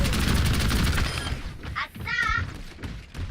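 Rapid automatic gunfire and thudding impacts from the video game Overwatch rattle loudly for about a second and a half, then fade as someone talks over the game sounds.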